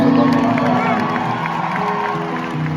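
Concert audience at a Christmas tour show at the Opry House in Nashville, a loud dense roar of cheering and shouting from a large crowd, continuous through the moment.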